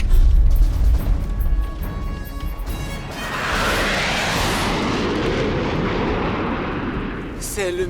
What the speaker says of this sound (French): 10 avions en formation.